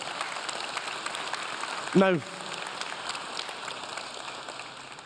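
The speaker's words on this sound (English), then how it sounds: "you're clapping, and that's lovely" Audience applause fills the hall at the YMCA 175 opening plenary, a steady wash of clapping with a brief spoken word from the stage partway through.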